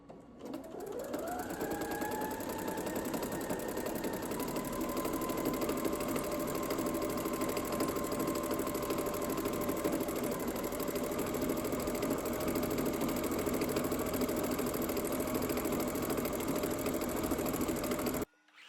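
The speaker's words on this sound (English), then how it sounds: "So I'm going to take this over to my machine and just quilt this quickly" A sewing machine quilting fabric layers for a potholder runs in one long continuous stitching hum, spinning up at the start and holding a steady close drone until stopping at the end.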